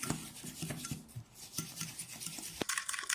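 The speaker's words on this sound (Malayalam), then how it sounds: "സോ ഇനി ഞാൻ ഈ ഫോർക്ക് കൊണ്ട് ഇതിനെ നല്ലതുപോലെ ഒന്ന് ബീറ്റ് ചെയ്തെടുക്കുകയാണ്" A fork beats instant coffee, sugar and milk in a cup, giving a steady close scraping, rasping whir with small clinks of metal against the container, continuing without pause.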